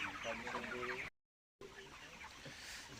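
Chickens cluck at a poultry farm, a low, busy chorus of hens with a short silent break midway, fairly faint and distant under the general farm ambience.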